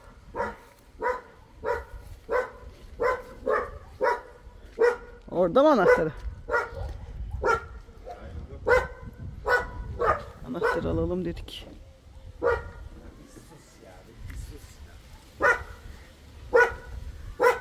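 Frightened dog barking at an abandoned village house, a near, loud string of regular barks with occasional yelps and whimpering, while someone talks over it in Turkish.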